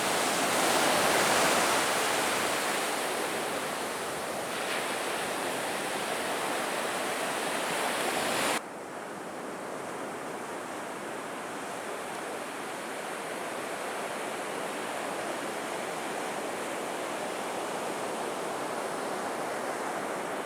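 Shore break at Cape Hatteras National Seashore, a continuous broadband roar of surf that is loud for the first several seconds, then settles into a softer, even wash.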